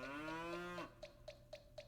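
A cow moos once in an anime, a long, low call that falls away and is followed by soft rhythmic knocks.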